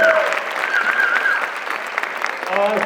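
School audience at a high school open-evening presentation clapping for the jazz band director, a dense burst of applause with some voices mixed in, loud and continuous before tapering slightly.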